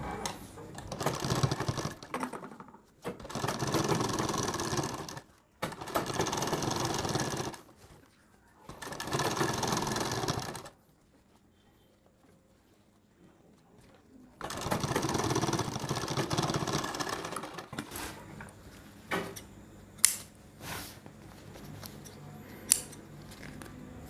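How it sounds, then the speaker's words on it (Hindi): A sewing machine stitches a blouse collar in several steady whirring runs of a few seconds each, separated by short pauses, ending with quieter handling clicks and taps. "अब आपको यहाँ पे इसमें एक सिलाई लगानी है"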